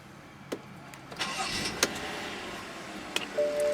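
A 2012 BMW 640i Gran Coupe with keyless push-button start cranks and fires up close by, with a few clicks before the engine catches and settles into a steady idle hum.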